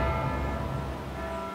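A city hall clock bell tolls in Sundsvall, its steady ringing tone sustained throughout at moderate loudness with no speech.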